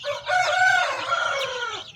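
A chicken gives a loud, drawn-out call close by among chicks, one long harmonic cry lasting about two seconds with no voices.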